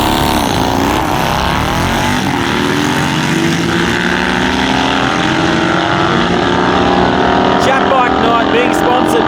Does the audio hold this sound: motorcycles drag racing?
yes